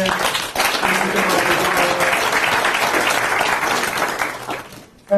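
An audience at a university distinguished lecture applauds the faculty, with dense, loud clapping that continues steadily for about five seconds before quickly dying away.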